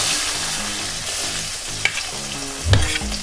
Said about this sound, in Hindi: अब मैं इसे चलाऊंगी, इसको हल्का पिंक होने तक हम थोड़ा फ्राई करेंगे